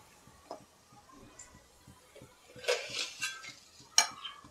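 Salt and turmeric stirred into hot oil in a pan for popcorn: a few soft spoon scrapes and light metal clinks, quiet and scattered, with two brighter clatters toward the end and no voices.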